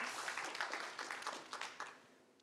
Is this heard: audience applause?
yes